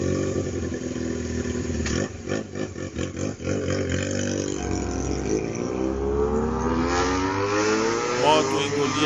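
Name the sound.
Honda CB 450 motorcycle revving and speeding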